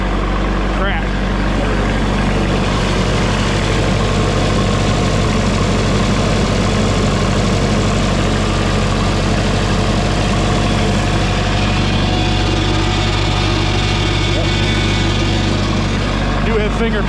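A propane-powered engine idles loud and near with a steady, low, heavy rumble throughout, while someone talks over it.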